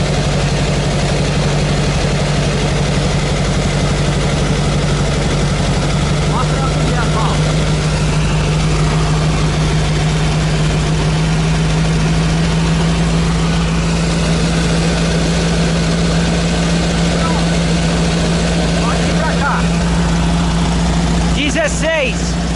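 A carburetted engine idles loudly and continuously with a steady low rumble and a faint pitch shift partway through, a few clicks near the end.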